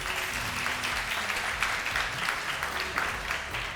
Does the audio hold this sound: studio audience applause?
yes